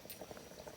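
Water bubbling at a steady rolling boil in a pot for cooking dinengdeng, a soft continuous gurgle heard up close with no voices.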